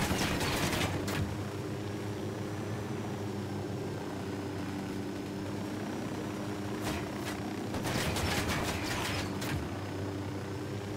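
Bursts of automatic gunfire crackle in Ghost Recon Wildlands, several sharp volleys over a steady aircraft engine drone, with a long run of rapid shots near the end.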